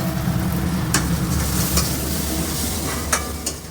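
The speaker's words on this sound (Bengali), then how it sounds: "এখানে বাঁধাকপি আর পেঁয়াজ ভাজছি" Cabbage and onion fry in a pan with a steady, close sizzle, broken by a few sharp scraping clicks as the vegetables are stirred.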